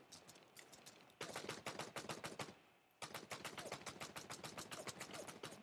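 Sustained automatic gunfire in the mobile shooter Code of War, a steady fast rattle of shots in two long bursts separated by a brief drop in intensity, fairly loud and close.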